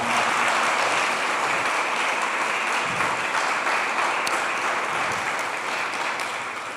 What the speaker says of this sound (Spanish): Dele un aplauso al Señor, hermano, por esta verdad.